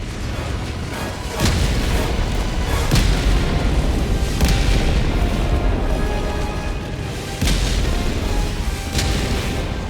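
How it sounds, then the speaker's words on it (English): Orbital high-explosive barrage in a video game pounds against a Titan: a dense, continuous roar of heavy booms with several sharper blasts standing out every couple of seconds, loud and unbroken throughout. "as the barrage barely does anything to the Titan"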